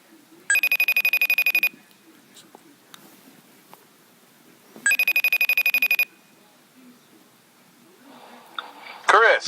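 An iPhone rings in two long bursts of rapid electronic trilling separated by a quiet gap, with a faint voice murmuring low and a brief chirp at the end.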